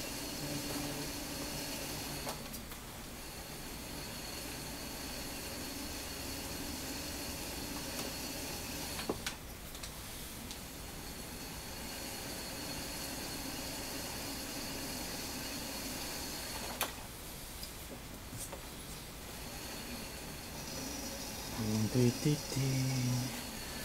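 Noisy potter's wheel running steadily while a wobbly clay charger is trimmed, a constant whirring hum with faint scraping and a few knocks, and someone talking over it.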